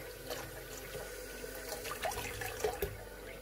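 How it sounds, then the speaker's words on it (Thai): Tap water running and splashing while a sausage casing is rinsed inside for Isan sour sausage, a steady soft flow with a few brief splashes, fairly quiet and close, no talking. "ล้างให้ดูอีกทีนึงนะคะเพื่อล้างข้างในเขา"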